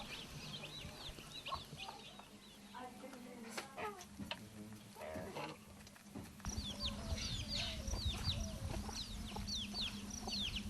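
Backyard chickens on a traditional household poultry plot cluck repeatedly amid birdsong and rural ambient noise, the calls continuous and moderately near.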